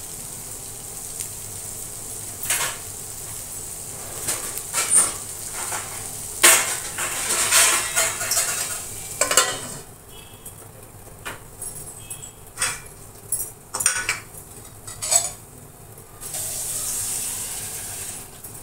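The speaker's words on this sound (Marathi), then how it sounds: "आता याच्यावर मी झाकण ठेवून घेते" A lid set down on a pot of spicy paya soup, heard as several close metallic clanks and clatters over a low steady hiss of cooking.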